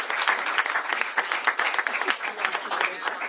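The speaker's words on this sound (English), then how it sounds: "let's give the Senator a round of applause while we sign it" An audience at a governor's bill signing claps for a senator, a lively round of close applause with individual claps standing out, while a few voices murmur underneath.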